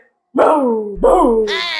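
A person imitates a dog barking with two drawn-out, whining woof-like vocal calls followed by a brief higher voiced sound, close and loud.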